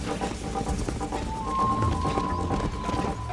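Horse hooves pound in a rapid galloping rhythm during a race in the video game Red Dead Redemption 2, close and steady beneath game music and ambient noise.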